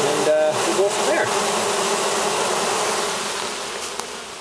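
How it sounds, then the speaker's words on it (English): A dense, continuous buzz of many honey bees during a hive cutout, loud and close, with a few faint voices briefly underneath. "That's a lot of bees for a cutout."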